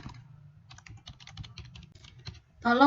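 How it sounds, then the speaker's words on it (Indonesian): Quick bursts of keystrokes on a computer keyboard while a message is typed, close and crisp, an irregular patter of taps that ends with a brief louder sound at the close. "Di sini saya akan ketikkan tolong"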